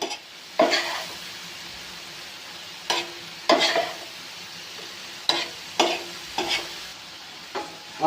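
Chicken tikka boti pieces frying on a hot tawa over high flame, a steady sizzle broken by several loud spoon scrapes and clacks at irregular intervals, with no voices.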